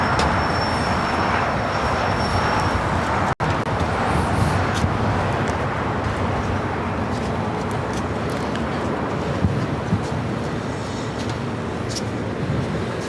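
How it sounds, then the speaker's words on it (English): China Eastern Boeing 777-300ER jet airliner at LAX, a steady broadband engine roar heard at a distance with a single sharp click partway through and no talk. "We got that China Eastern 777 at 300 ER."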